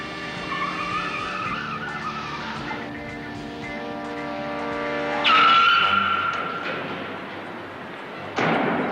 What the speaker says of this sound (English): Peter suddenly whips into a parking garage.